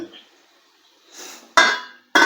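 A lid is set on a cooking pot while a curry cooks, making two sharp metallic clanks close together near the end after a faint scrape.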